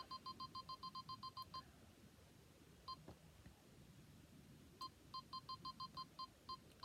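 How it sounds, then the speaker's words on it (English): A Canon G7X Mark II compact camera emits quick bursts of clean electronic beeps, a rapid run of about ten, a lone beep, then further clusters, faint and close in an otherwise quiet room. "Obviously, there's a little bit of beeping going on"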